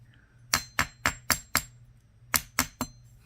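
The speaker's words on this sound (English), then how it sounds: "we're going to get our nylon jaw hammer out and hit this a few times" A nylon jaw hammer strikes shaped wire on a bench block to work harden it for earrings: five sharp taps, a pause, then three more, crisp and close with a ringing clink.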